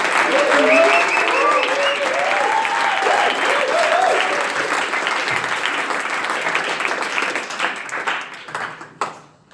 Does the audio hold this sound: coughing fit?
no